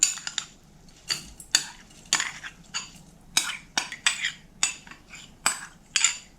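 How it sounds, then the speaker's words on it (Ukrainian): A thick-bottomed saucepan being handled in a kitchen, a series of sharp metallic clinks and clatters in irregular bursts, close and fairly quiet, with no talking. "Беру тепер кастрюльку з товстим дном"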